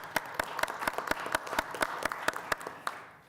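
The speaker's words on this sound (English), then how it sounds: "we would like to extend our appreciations by giving you another round of applause" A small committee applauds a departing member, Desiree Golden, with sparse, distinct, evenly spaced claps that are fairly quiet and fade out at the end.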